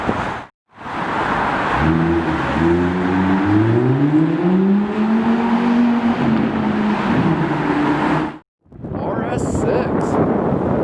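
An Audi RS6 drives past on a city street at night, a loud engine roar rising and falling in pitch over several seconds as it accelerates by. A voice can be heard over the noise.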